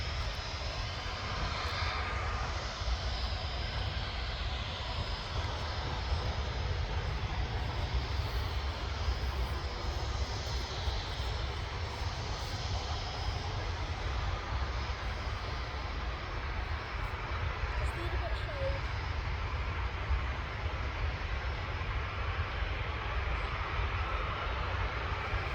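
Sun Express and Ryanair jet airliners at Manchester Airport in hot weather, a sustained broad jet engine roar that stays steady and fairly distant throughout, with no talking.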